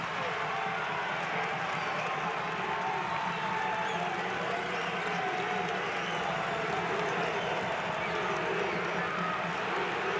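A crowd of 9,000 at a college basketball game in Carver Arena, Peoria, between Drake and Bradley, holds a loud, steady roar of cheering and noise, close and continuous and without letup.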